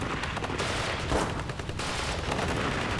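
Sniper rifles and other gunfire crackle in the real-time strategy game WARNO, with dense, continuous distant shooting and rapid rattling bursts across three seconds of battle noise.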